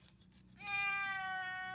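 A house cat gives a single long, drawn-out meow up close, clear and steady after a brief low rustle.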